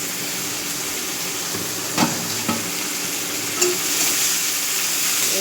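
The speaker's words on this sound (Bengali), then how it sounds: "এবারে গাজরটা একটু তেলের উপর ভেজে নেব" Carrots fry in oil in a wok with a steady close sizzle, broken by a few sharp scraping knocks of stirring against the pan; no voices are heard.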